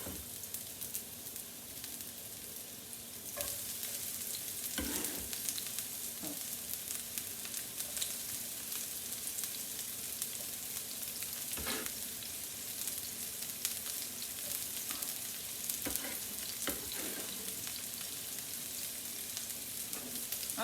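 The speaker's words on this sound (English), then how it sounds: "let's put the onions and garlic in" Onions and garlic fry in a pan as a steady soft sizzle. A few clinks and stirring knocks break through now and then, and it grows a little louder after the first few seconds.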